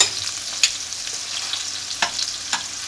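Saltimbocca frying in butter with sage leaves in a pan, a steady soft sizzle with a few brief clatters as the pieces are flipped, close and fairly quiet.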